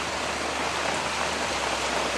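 Steady heavy rain falls on a makeshift open hut, a dense, even hiss of drops that holds without a break and with no voices over it.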